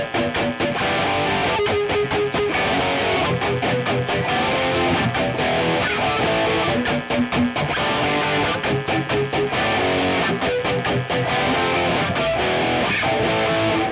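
An electric guitar plays a song's chord pattern with muted string scratches between the chords, giving a steady, driving rhythm of sustained distorted chords broken by sharp percussive chucks, alone and loud throughout.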